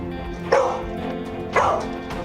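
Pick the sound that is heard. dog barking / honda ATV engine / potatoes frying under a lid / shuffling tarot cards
dog barking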